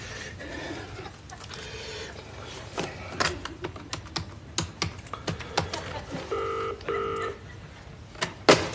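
A telephone being dialed indoors in a 1990 British sitcom scene: scattered key clicks, then a few short, steady electronic dial tones near the end, heard against quiet room noise.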